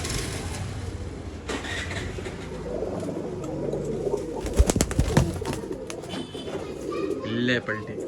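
Pigeons of a prized breed held for sale in Bangalore coo softly in the background under ongoing chatter and handling noise, with a few flutters and clicks near the end.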